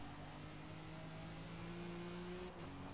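Faint, steady engine drone of an A-class racing car in Forza Motorsport at night, a continuous tonal hum holding pitch with a brief dip near the end as revs shift.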